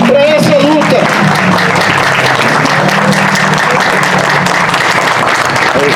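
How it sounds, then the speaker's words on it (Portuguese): A crowd at a public protest rally in central Belo Horizonte breaks into loud, dense applause, with a voice speaking briefly at the start before the clapping carries on steadily. "eu queria saudar com uma salva de palmas todo mundo que está aqui até agora para essa luta"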